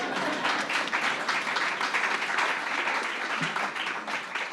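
Audience members at a company annual general meeting give a round of applause, a sustained, moderately distant wash of clapping filling the room without speech.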